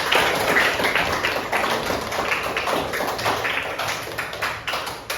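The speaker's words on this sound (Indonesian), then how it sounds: "Kita kasih tepuk tangan dulu dong yang bertanya." Students in a classroom clap together for a classmate who asked a question during an Islamic religious studies lesson, a steady, dense patter of many hands that continues without pause.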